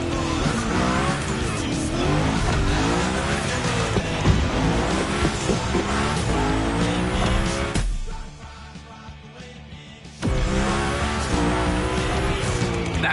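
Video-game car drifting through a gymkhana course, a continuous loud engine roar mixed with long tire squeals for several seconds, a brief quieter gap, then the skidding and engine noise resume at full volume.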